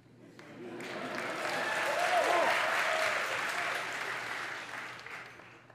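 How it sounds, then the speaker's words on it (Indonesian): Audience applause in a Georgetown University lecture hall during a public lecture, a large crowd's clapping swelling from quiet to a full, sustained roar before gradually tapering off. "Tepuk tangan untuk Georgetown Uni."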